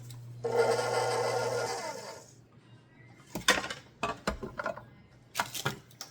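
Kitchen blender on its stir setting, a whirring motor hum for about two seconds that then stops, followed by scattered clicks and clatters of dishes and utensils nearby.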